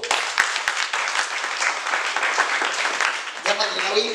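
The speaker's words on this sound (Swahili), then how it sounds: "Mpige Yesu makofi" Congregation at a church sermon clapping for Jesus, a dense, steady wash of applause lasting several seconds, fairly loud with voices mixed in and a sharper shift near the end.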